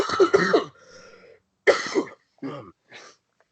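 A person coughs and clears their throat in a few separate bursts, close up, with short pauses between them.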